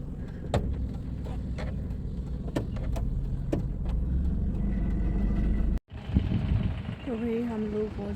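A car drives on a wet road with a steady engine rumble and road noise throughout, light clicks over it, a brief cut, then voices talking over the continuing drone.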